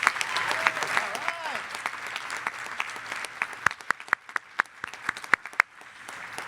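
Audience applause at a charity awards breakfast, scattered individual claps building into a fuller round, moderately near, with someone speaking over the start.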